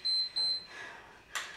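A workout interval timer sounds two short, high electronic beeps in quick succession, fairly soft, followed by faint rustling and a brief clatter.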